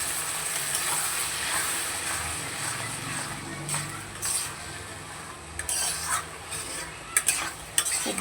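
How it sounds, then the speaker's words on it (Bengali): Ground mustard and green chili paste is stirred into small fish frying with unripe tomato, a close scraping stir over a soft sizzle, with clicks of the spatula against the pan near the end. "খুব ভালো করে মিশিয়ে নেব"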